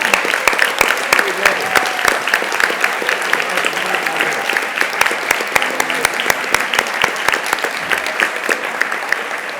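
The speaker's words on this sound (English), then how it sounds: "How about we ask them to stand and give them a round of applause?" Audience applause for college interns at a State of Inclusion event, a steady loud round of clapping with sharp individual claps standing out throughout.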